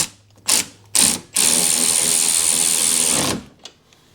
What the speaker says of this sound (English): we're just going to nip these up using the electric ratchet